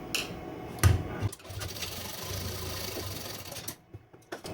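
A sewing machine stitches a princess cut blouse, its close mechanical whir running in uneven bursts with brief pauses and a few sharp clicks before stopping near the end.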